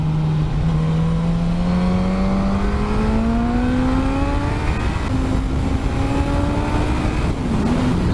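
A 2018 Suzuki GSX-S1000F motorcycle accelerates steadily, its engine note climbing smoothly through one gear, briefly dipping at a shift, then pulling on again; close, continuous and unbroken by voices.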